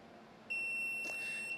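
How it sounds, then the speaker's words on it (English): A Sunlu 3D printer filament connector signals completion of an ABS fusing cycle with a steady high electronic beep tone, close and clear over faint room noise. "And the beeps means it's done,"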